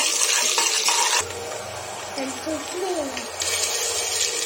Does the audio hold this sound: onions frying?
yes